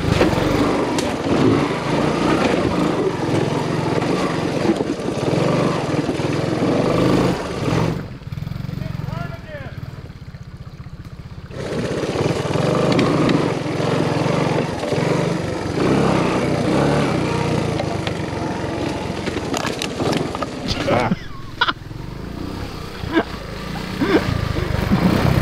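A Honda ATC 200 three-wheeler engine races loud and close in a three-wheeler showdown against a Yamaha Tri Moto 175, revving continuously with a brief dip midway, while people talk and shout over it.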